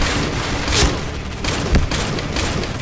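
Shotgun fire in the game Point Blank, close-range blasts going off as several loud, separate shots over a busy background of game noise.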